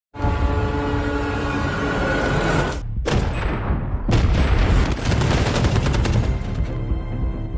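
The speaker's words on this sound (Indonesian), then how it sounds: "terjadilah baku tembak" Gunfire roars through a film shootout, a dense, loud continuous barrage broken by two brief gaps before the firing resumes in heavy bursts.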